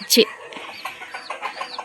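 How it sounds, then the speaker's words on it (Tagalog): Chickens cluck nearby, a couple of sharp squawks at the start followed by softer scattered clucks, with a little background noise. "So mana di ko pagkaon sa mga manok."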